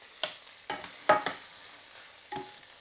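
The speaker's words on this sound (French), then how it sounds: "on ajoute nos morceaux de viande qu'on mélange bien à la garniture aromatique" Pieces of veal shank are stirred into aromatic vegetables in a pan, giving several distinct scraping clacks of a utensil over a faint steady sizzle, close and without talk.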